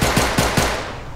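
Three loud, evenly spaced shots of gunfire from the video game STALCRAFT crack out in quick succession, each a sharp burst followed by a short decaying tail, with no talking.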